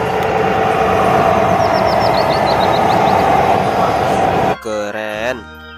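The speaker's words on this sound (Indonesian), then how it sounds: "Yang ini mobil truk molen." Toy cement mixer truck with a loud rumbling engine drone and chirping tones that cuts off near the end, followed by a short sliding electronic tune.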